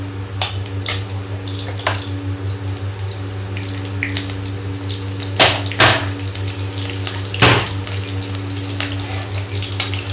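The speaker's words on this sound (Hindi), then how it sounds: "धीमी आंच पे फ्राई कर देते हैं।" Slit green chillies fry in oil over a low flame with a steady, soft sizzle under a constant hum, broken by a few sharp pops and crackles.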